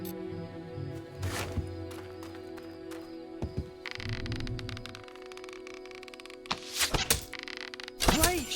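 Arrows striking archery targets in the video game Fable Anniversary: a handful of dull wooden thunks spaced irregularly, with two close together near the end, among quieter game sounds.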